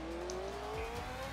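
An engine whines steadily upward as a car accelerates in the racing game Out Run 2, a smooth rising drone with a faint tire-like squeal partway through, heard alone at moderate level.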